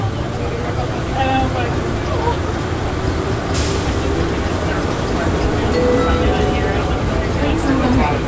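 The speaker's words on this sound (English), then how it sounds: "This train is departing." Atlanta airport Plane Train, an automated people mover running from the D gates toward the domestic terminal, pulls away with a loud, steady rolling rumble and a sharp pneumatic hiss partway through, a voice faintly present beneath the noise.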